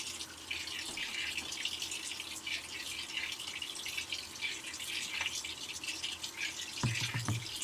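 Washing machine filling with water during a cycle after fabric softener is added, a steady hissing stream of water running in, moderately faint, with a few clunks near the end and no talk.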